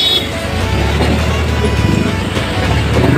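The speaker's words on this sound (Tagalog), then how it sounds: "Traffic." Continuous street traffic outside on a warm morning, a steady rumble of passing vehicles with a low engine drone, fairly loud and close, with no clear talk.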